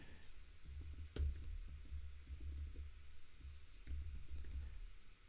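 Live typing on a computer keyboard during a software tutorial, with soft irregular key clicks running steadily throughout, close and fairly quiet, a couple of sharper taps standing out.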